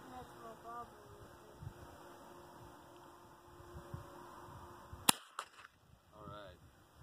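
A single sharp .22 rifle shot from a Winchester 9422 XTR lever action or SIG Trailside cracks loud and close near the end, following several seconds of outdoor background with faint talk.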